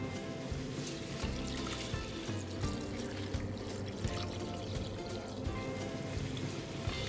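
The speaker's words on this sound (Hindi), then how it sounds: "पोहे धोने के लिए हम इसे एक बड़े से कटोरे में डाल देंगे। उसके बाद हम इसमें मिलाएंगे कुछ पानी।" Water is poured into a large bowl to wash poha (flattened rice) in a home kitchen, a steady, close trickling pour running for several seconds without talk.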